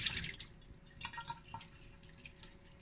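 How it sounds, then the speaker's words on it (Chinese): Water drips from jellyfish lifted out of a long soak to drain, a few scattered drops and trickles spaced irregularly, quiet and close with no voices. "现在海蜇已经差不多了，我们拿起来沥水。"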